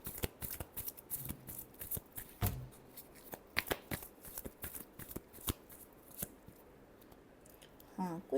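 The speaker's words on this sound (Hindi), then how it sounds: "last shuffle" Tarot cards are shuffled by hand in quick, quiet riffling bursts and soft slaps, close by and with no voices.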